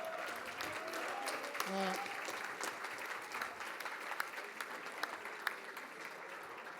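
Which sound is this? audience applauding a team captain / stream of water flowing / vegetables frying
audience applauding a team captain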